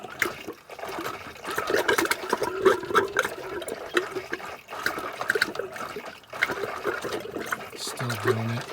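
Water and air sputtering out of RV plumbing lines as compressed air blows them out during winterizing, an irregular hissing gush with bursts and brief pauses at close range.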